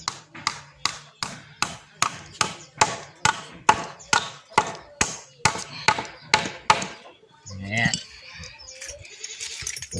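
Old nails hammered into wood to build a ladder: about fifteen sharp, evenly spaced blows in a steady rhythm, close and loud, followed by some shuffling handling noise.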